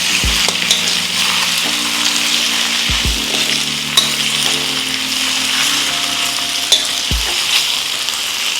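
Beef chow fun noodles are stir-fried in a wok kept at high heat, a loud steady sizzle with the scrape and clank of a spatula against the pan at intervals, and no voices.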